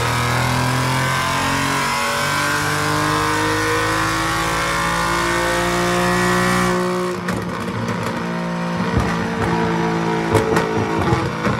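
Alfa Romeo Giulia with a 2.9-litre twin-turbo V6 developed from Ferrari, running hard on a dyno: a loud sustained high-rev engine roar that abruptly shifts at around seven seconds into rougher, crackling bursts.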